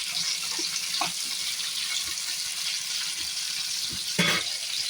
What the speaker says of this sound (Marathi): आता याच्यामध्ये आपण शिमला मिरची ॲड करणार आहोत. तिला पण असं 1-2 मिनटं छान परतून घेऊया.